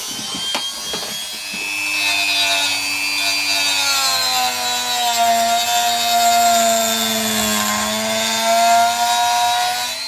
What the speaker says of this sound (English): I'm going to use the cutting disc again and get it as neat as we can.